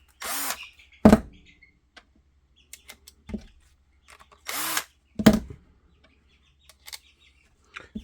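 Short bursts from a power drill driving screws into a Level 2 holster for a CZ P10F, two longer whirring runs among scattered clicks and small handling knocks, loud and close.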